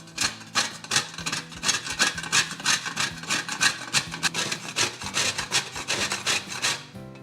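Rapid rhythmic scraping of a block of palm jaggery against a hand grater, quick strokes repeating steadily for several seconds, close and fairly loud with no talking.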